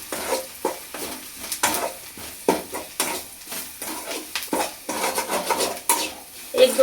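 Gram flour being stirred into onions in a pan for onion chutney makes repeated scraping and clattering strokes of a spoon against the pan, rhythmic and close, over a soft sizzle.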